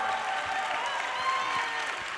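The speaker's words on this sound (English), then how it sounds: "Will you guys give them a big round of applause for all they did for you?" A conference audience applauds a panel in a short, steady burst of clapping that fills the room.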